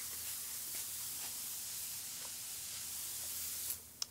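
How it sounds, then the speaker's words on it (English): A soft, steady spray of non-flaking starch onto a quilt block hisses close by, faint and continuous, ending with a couple of small clicks. "using non-flaking starch, just spray your block really heavily"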